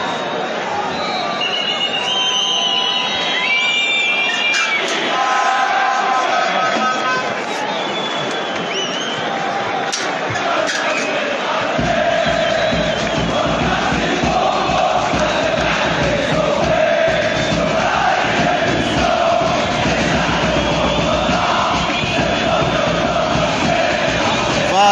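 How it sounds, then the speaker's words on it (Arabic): Meknes football fans in a packed stadium chant and cheer without pause through the first half, a loud continuous roar of massed voices with a steady rhythmic chant, while a commentator speaks over it. "في جماهير لم تتوقف طيلة الدقائق المباراة طيلة دقائق الشوط الأول"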